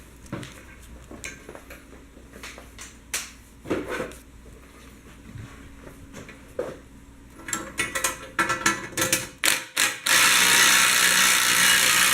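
Wrench and ratchet work on bolts of a skid plate for a Nissan Pathfinder R50, a series of close metallic clicks and clanks in uneven bursts, ending in a steady loud noise.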